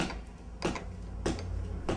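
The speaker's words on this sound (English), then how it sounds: "That's the metronome going" A metronome ticks during a guitar strumming practice session, giving three evenly spaced sharp clicks over a steady low hum.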